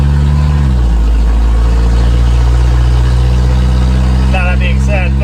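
A 1987 Toyota van's engine drones loud and close from inside the cab on a slow first drive, its pitch dropping as it shifts early on, then holding a steady hum with faint squeaks near the end.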